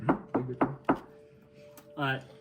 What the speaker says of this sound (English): I do a nice tap on the door.